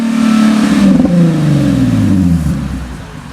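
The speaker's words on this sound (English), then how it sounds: "You hear it popping?" A Nissan 370Z engine revs up and winds down, its exhaust crackling and popping with trapped water in the pipes, loud and close with a falling engine tone and no talking.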